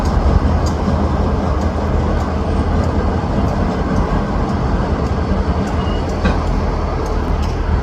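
Freight locomotives moving through the SRY Trapp rail yard in New Westminster on a foggy morning, a constant low engine rumble with a faint squeal or two, steady and fairly close.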